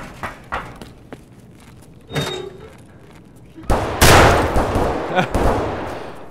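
Gunfire during a video game raid, after the player swapped an AK for a shotgun: a few sharp shots early on, then a louder burst of rapid, crackling fire with several closer, heavy reports toward the end.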